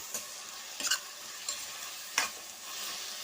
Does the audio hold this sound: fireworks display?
no